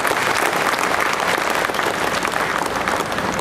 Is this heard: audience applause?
yes